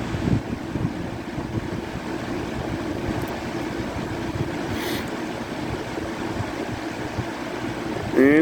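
A box fan on its medium speed setting gives off a steady, loud broadband whoosh of moving air that continues unbroken, close to the microphone and with no talking.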